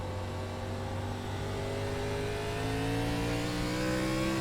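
Race car engine in the iRacing ARCA Menards Series simulator at South Boston, a continuous high-revving drone with pitch climbing steadily as it accelerates off the corner, loud and unbroken.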